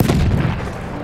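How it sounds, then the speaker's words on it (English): A grenade explodes in a video game: one loud, booming burst with heavy low rumble that hangs and slowly fades over about a second. "Vorsicht, Jungs, ich werfe eine Granate!"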